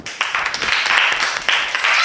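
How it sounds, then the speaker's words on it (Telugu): A small audience claps together for a child on a Telugu comedy show, with a steady patter of hands filling about two seconds and a couple of sharper bursts near the start and middle. "And claps."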